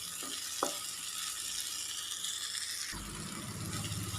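Cooked masoor dal being stirred into tomatoes in a frying pan, a steady close sizzle with a spoon scraping and a thicker bubbling sound rising near the end.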